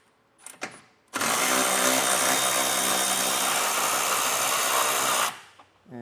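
A power tool loosens two 12mm bolts holding a module to a truck frame while Air Lift LoadLifter 5000 air helper springs are installed. It gives a loud, close, steady whir for about four seconds after a few faint knocks, with no talking.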